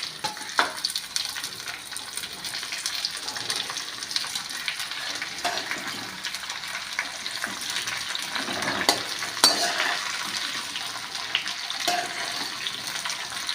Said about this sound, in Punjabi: ਜਿਹੜੇ ਜੀ ਔਲੇ ਵਾਲ ਕੇ ਸੁਕਾ ਕੇ ਰੱਖੇ ਹੋਏ ਨੇ ਆਪਾਂ ਇਹਨਾਂ ਨੂੰ ਵਿੱਚ ਤੇਲ ਦੇ ਪਾ ਰਹੇ ਹਾਂ